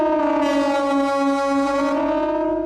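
A KTG-10 siren produces a loud, sustained harmonic wail at a steady pitch, rich in overtones, with a brighter upper layer entering briefly and then fading.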